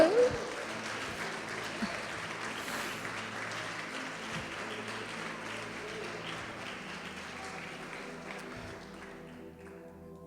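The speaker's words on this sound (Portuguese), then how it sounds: "Pode aplaudir, adorar o Senhor." A church congregation claps in a broad, even spread of applause that stays fairly quiet and steady throughout, easing off slightly near the end.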